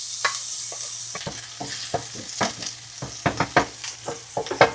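Garlic and ginger stirred in a hot pan for a beef and onion stir fry, giving a soft sizzle under a string of close clacks and scrapes from a utensil.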